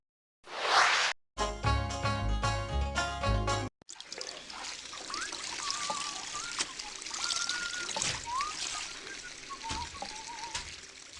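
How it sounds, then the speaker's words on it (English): Running water pours and trickles steadily into a bathtub of hot mineral water inside a bathhouse in the video game USA Explorer, a continuous wash heard alone after a short burst of game music. "getting ready to soak in a nice hot bathtub full of mineral water"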